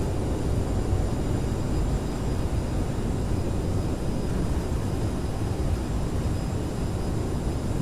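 Airliner rolling out on landing at Trondheim in Microsoft Flight Simulator, thrust reversers roaring as a steady, loud broadband rush of engine noise that holds evenly throughout with no talking.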